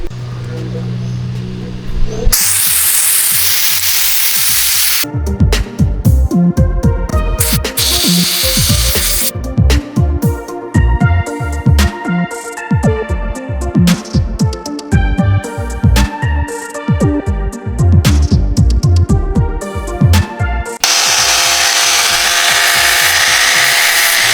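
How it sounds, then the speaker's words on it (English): A sandblaster throws garnet abrasive at metal on a Holden HZ door scuff panel in long, loud hissing blasts at the start and end, with choppy mechanical workshop noise between them. "I'm going to try the sandblaster."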